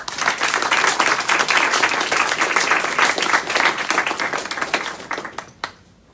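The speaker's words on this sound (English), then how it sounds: "give him a round of applause" Audience at a Future Day 2018 talk applauds steadily for about five seconds, dense clapping filling the room before it quickly tapers and stops.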